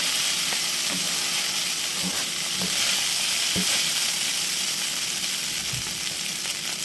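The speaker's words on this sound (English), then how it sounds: "you just gotta keep tossing so nothing does stick at the bottom" Ham fried rice fries loudly in a pan on a stove, a continuous close sizzle broken by periodic scrapes and knocks as the rice is tossed and stirred.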